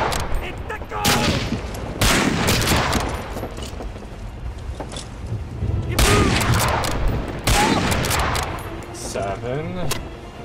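Repeated bursts of gunfire in the war shooter game Medal of Honor: Breakthrough, loud rapid volleys and single shots layered with battlefield clatter, while someone talks over parts of the fighting.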